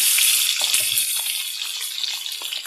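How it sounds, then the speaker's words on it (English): Six boiled eggs go into hot oil in a kadhai, setting off a loud, steady, crackling sizzle that fills the whole stretch with dense popping spatter, slowly easing a little in intensity. "I have 6 boiled eggs here and I'm adding it to the oil in the kadhai"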